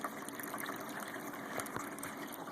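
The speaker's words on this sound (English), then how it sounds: "You can actually see the water coming out of the pump to your right there, filling the tempering tank above." A steady rush of water from a Jobo CPP2 film processor pump filling its tempering tank, a continuous low gush and trickle close by, faint but unbroken.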